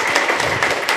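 Both sides of an audience at a foot pulse therapy camp session clap together in a loud, dense burst, many hands at once with slight rhythmic pulses, lasting only a moment.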